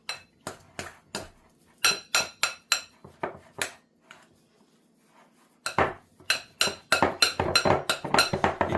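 A spoon mixes seasoned mashed potato, with salt and pepper added, in a bowl, making sharp close clinks against the bowl: a run of separate strokes, a short pause, then a faster, denser burst of scraping and clinking.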